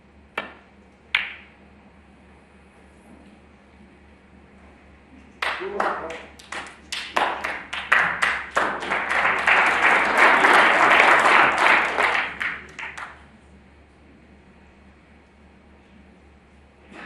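A snooker crowd at a Champion of Champions semi-final greets both players with applause: a few scattered claps build into a loud, sustained ovation lasting several seconds, then fade, with a commentator's voice over it.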